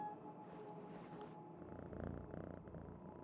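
A cat in the Mandragora: Whispers of the Witch Tree video game purrs in a soft, steady rumble, quiet and close. Breathy game ambience sits underneath, with no talking.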